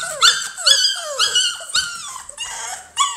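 American Bully puppies growl, whimper and yip in a close, busy run of high squeaky whines and short rough growls, overlapping one another with no talking.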